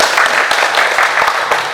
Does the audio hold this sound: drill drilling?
no